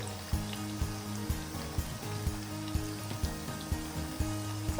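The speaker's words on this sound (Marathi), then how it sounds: "मैद्यापेक्षा कणकीच्या कुठल्याही गोष्टीला जास्त वेळ लागतो जरा तळण्यासाठी" Fenugreek mathri papdi made with wheat dough deep frying in oil, a continuous bubbling sizzle with regular soft rhythmic pulses, fairly quiet and without talk.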